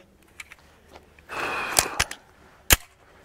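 A Springfield XD9 pistol fires Lehigh 90 grain bullets at a target. A few sharp, sudden cracks stand out against quiet handling noise and a brief rustling wash of sound.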